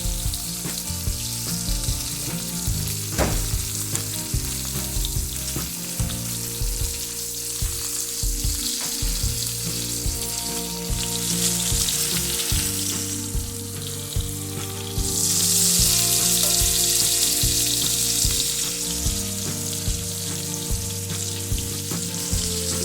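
A top round boneless steak fries in a pan, a loud continuous sizzle and crackle that swells slightly partway through, with background music and no talking.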